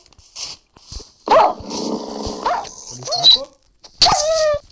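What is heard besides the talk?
dog growling and barking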